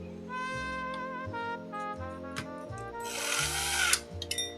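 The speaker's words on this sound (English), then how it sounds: "now I just gotta put a bunch of screws back in" A power driver spins screws back into a vintage video game console in repeated short whirring bursts with brief pauses between them, close and fairly loud, ending in a louder grinding run.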